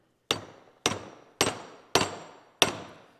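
Five sharp, evenly spaced metal taps on a grease fitting being knocked loose for removal, each a crisp close strike with a short ringing decay.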